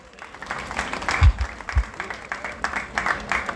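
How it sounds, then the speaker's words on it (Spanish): A crowd at a carnival coronation applauds in uneven bursts, moderately loud, while a voice over the public address speaks over the clapping. "fuerte el aplauso para todos los invitados especiales y para los organizadores del evento"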